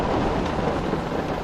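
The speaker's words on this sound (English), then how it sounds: "the rain finally caught up to me. A little bit of hail in it too" Steady rain mixed with a little small hail pours down outdoors over farm fields, a dense, even hiss with fine pattering and no voices.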